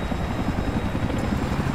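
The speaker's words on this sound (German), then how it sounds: "Du musst nur auf den Heli da drüben achten." A helicopter from the Battlefield 3 multiplayer Conquest mode on the Kharg map thrums steadily and loudly for the whole stretch, its rotor chop continuous with no talk over it.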